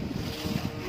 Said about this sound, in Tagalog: Mahangin o. Mahangin.